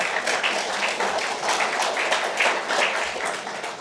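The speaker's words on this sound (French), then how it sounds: "Vous pouvez applaudir le délégué général aussi, il sera content." An audience at a round-table debate of a French federation claps for the delegate general, a continuous, fairly loud burst of applause with uneven individual claps throughout.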